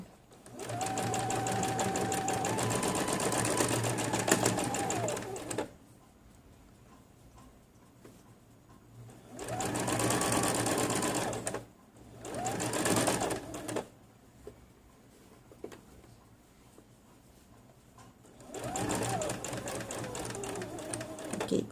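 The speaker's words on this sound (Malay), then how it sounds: "Okey, jahit je ikut garisan" A sewing machine stitches a pinned seam on a men's kurta or jubah placket in loud whirring bursts of several seconds, separated by quiet pauses with faint handling clicks.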